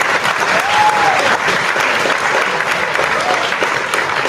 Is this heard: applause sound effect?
yes